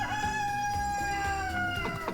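Several chickens cluck and crow close by as they wait for apple scraps, a rooster's drawn-out call riding over a busy flock's chatter.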